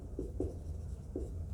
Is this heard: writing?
yes